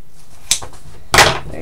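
Foam for a fursuit bucket head is cut in two quick bursts, a short scrape followed by a louder, longer rasping slice, close and without talk.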